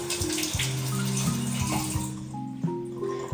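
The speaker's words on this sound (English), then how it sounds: "So I think I am just gonna rinse it off." Fresh dill is rinsed under a running kitchen tap, water pouring steadily and splashing close by with shifting tone as the herbs move through the stream.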